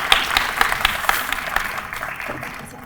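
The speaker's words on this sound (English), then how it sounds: "Let's give our families a round of applause." An audience at a nursing school pinning ceremony applauds its families with a burst of clapping. The clapping is crisp at first and gradually thins and fades over a few seconds.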